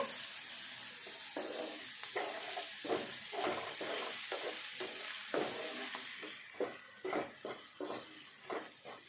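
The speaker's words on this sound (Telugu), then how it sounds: "కొద్దిసేపు వేగనిద్దాము ఇట్లా వేగితే సరిపోద్ది" Spices with ginger-garlic paste sizzle in hot oil while a spoon stirs in rhythmic scraping strokes, close and steady, the sizzle easing toward the end as the stirring continues.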